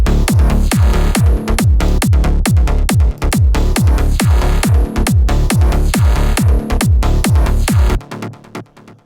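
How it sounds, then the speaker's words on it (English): Electronic groove from a track, with punchy kick drums thumping on a steady four-on-the-floor beat under deep sub bass and bright mid synth sequences, loud and dense, fading out over the last second. "And that with the kick, subs, and mids sounds like this"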